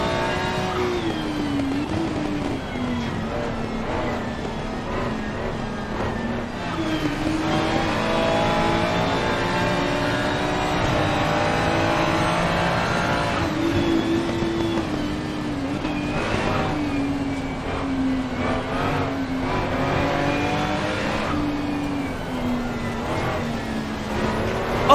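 GT3 race cars, including a Ferrari and a Porsche, running through heavy rain at Spa: a continuous, loud engine drone whose pitch rises and dips under a dense hiss of spray, close and unbroken throughout.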